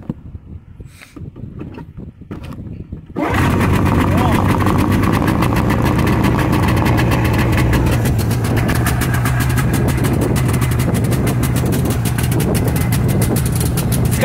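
A 1998 Yamaha Vmax XT500 snowmobile engine cold starts after a few handling noises, then runs loud and steady in a continuous close rumble for the rest of the clip.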